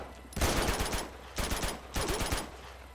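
A gun firing in the action game Uncharted 2 sounds in three loud automatic bursts of rapid shots, each lasting about half a second, separated by short gaps.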